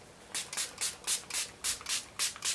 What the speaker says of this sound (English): I'm finishing a look with some setting spray, and I'm using the Me and Youth Quick Makeup Fix.